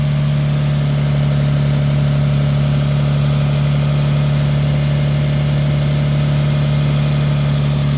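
A Mitsubishi Eclipse engine idles steadily up close, a constant low hum with an even drone and no change in speed, running alone throughout.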